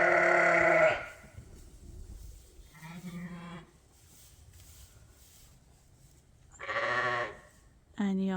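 Suffolk lambs bleating in a straw-bedded barn, several separate calls at intervals, a loud one at the start and others later, with quieter stretches of barn ambience between them.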